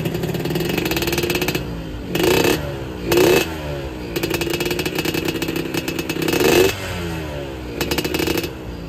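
A motorcycle fitted with a Killer Whale road-race exhaust revs in repeated short blips over a steady idle, each throttle burst rising into a raspy, crackling roar up close.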